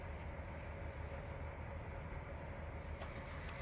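Railroad cars from the train simulator game Trainz 2019 roll steadily with a constant low mechanical rumble and a faint metallic whine, including tanker cars, no voices present.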